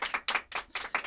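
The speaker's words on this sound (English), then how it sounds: "Let's do the clap." A small group on a Nashville talk show claps in unison: four quick, sharp, evenly spaced claps, close and crisp.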